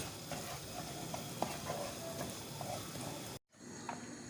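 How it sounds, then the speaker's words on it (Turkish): Semolina with ground walnuts roasting in a pan for walnut semolina halva, stirred steadily: a constant dry hiss with soft scraping strokes and a brief moment of silence partway through. "Kavrulan irmiğimizin içine toz cevizimizi de ekliyoruz. Ve bunu da kavurmaya başlıyoruz."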